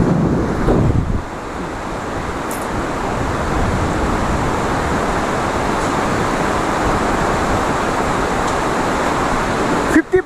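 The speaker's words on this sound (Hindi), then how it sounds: "और इस पुल के नीचे से बह रहा है नदी" A Himalayan river in Lahul and Spiti rushes beneath a swaying footbridge, making a steady, loud broadband roar mixed with wind buffeting that continues throughout.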